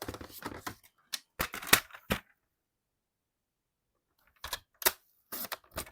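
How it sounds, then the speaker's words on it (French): Paper being cut on a massicot paper trimmer, a few sharp, close slicing and clunking strokes in two bursts, separated by a stretch of near silence. "Alors, je vais le couper avec mon massicot."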